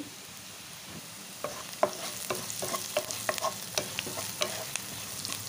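Onions and turmeric fry in oil in a pan, a steady soft sizzle under repeated light scraping stirs that begin after a quiet second and continue close by.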